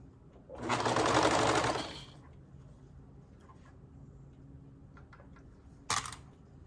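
A serger sewing machine runs a skirt seam through its knife in one loud burst of about a second and a half, then stops; faint handling clicks and a short rattle follow in a quiet room.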